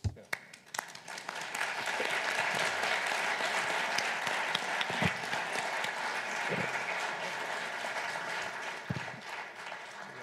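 Sustained audience applause fills a panel discussion hall at the Davos Annual Meeting, a dense steady wash of many hands clapping at moderate loudness for about ten seconds, with a few sharper claps at the start and scattered louder claps near the end.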